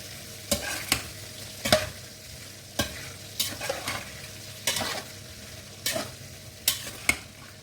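A spoon scrapes and turns onions in a pot for an onion stew, giving repeated sharp stirring clacks at an irregular rhythm over a soft, low sizzle, close by and with no talking.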